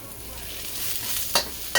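A steady close sizzle of beef stir-frying in a hot wok, with a couple of sharp metal scrapes from a stirring utensil near the end.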